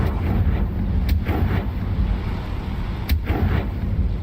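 Confringo fire spell blast in the Hogwarts Legacy video game, heavy booming explosive thumps over a dense low rumble, with a few sharp cracks breaking through.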